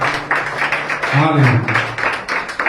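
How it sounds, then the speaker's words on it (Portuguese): A church congregation applauds through a worship service, a steady, dense patter of clapping with a rhythmic pulse and a voice calling out briefly in the middle. "Vamos aplaudir mais uma vez,"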